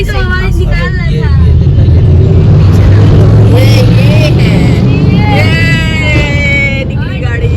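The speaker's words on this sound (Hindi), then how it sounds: "ये निकली गाड़ी, इसकी आवाज है।" A car rumbles steadily close by, its engine noise rising and passing amid a busy street backdrop with scattered chatter.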